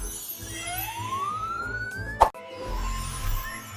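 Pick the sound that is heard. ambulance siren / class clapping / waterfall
ambulance siren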